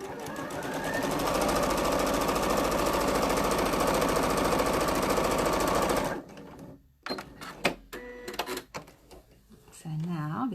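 A sewing machine stitching pin tucks runs loud and steady for about six seconds, a fast continuous mechanical whir. It then stops, and clicks and handling noises follow while a person talks.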